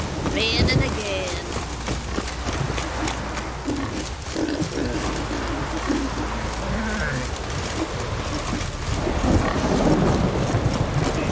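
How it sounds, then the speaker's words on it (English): Rain pours steadily in The Witcher 3, with rumbling thunder and hooves underneath, while someone talks over the storm. "Raining again."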